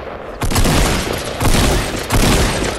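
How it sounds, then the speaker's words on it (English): Big explosions in the video game Fortnite, three loud booming blasts in a row, each a sudden broadband burst with a rumbling tail, close and dominant. "All I saw was a huge explosion, dude."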